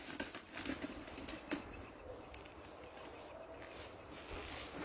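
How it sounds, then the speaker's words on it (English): A bird flaps its wings outdoors at night, producing soft, quick fluttering bursts near the start that fade into faint, noisy ambient hiss, with no talk heard. "That's a bird."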